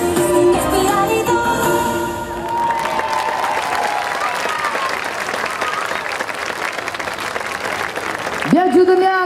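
Loud audience applause and cheering after a Disney-themed dance show, starting just as music fades and continuing as dense, steady clapping, with a voice speaking over it near the end.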